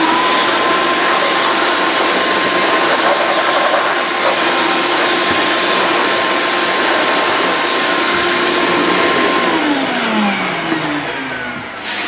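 A steady, loud rush of blown air clears sanding dust off a carved wooden board, with a constant whining tone under the hiss. It runs unbroken for about ten seconds, then tapers off.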